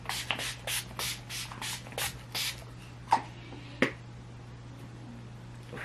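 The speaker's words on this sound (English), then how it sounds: "quickly set my face with the Urban Decay 9 Test Setting Spray" Several quick hissing spritzes of an Urban Decay setting spray bottle onto a face in a row, close by, followed by a couple of sharp clicks.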